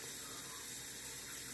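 Tap water pours steadily into a measuring cup while measuring water for simple syrup for homemade limoncello, a continuous close splashing hiss with no talk.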